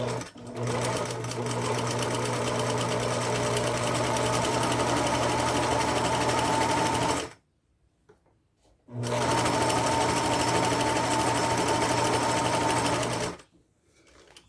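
A Singer Facilita domestic sewing machine sews a zigzag stitch, its steady close whirring hum running for about seven seconds, stopping briefly, then starting again for a second long run.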